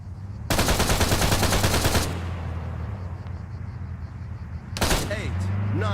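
Rapid automatic gunfire in the Arma 3 combat game rattles loudly for about a second and a half, then a second burst follows, with a voice speaking over it.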